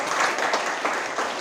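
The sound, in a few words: applause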